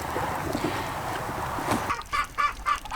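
Chickens cluck in a pastured poultry coop behind solar-powered electric fencing. First comes a low outdoor murmur, then several loud, close clucks and squawks in quick bursts across the last second, with no talking.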